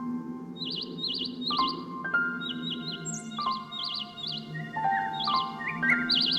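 A small bird chirps in quick repeated bursts of high tweets, fairly close, over a soft low background hum.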